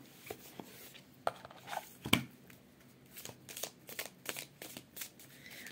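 Tarot cards being shuffled at close range, a run of crisp riffling slaps and flutters with a few sharper snaps, quiet and without talk.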